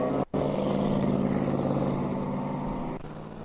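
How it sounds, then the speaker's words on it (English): A ChampCar endurance race car engine roars past at speed at Charlotte, a sustained drone that fades slightly toward the end, with no voices. "I can't mistake that engine sound as it comes by"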